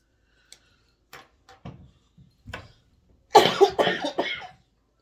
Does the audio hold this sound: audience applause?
no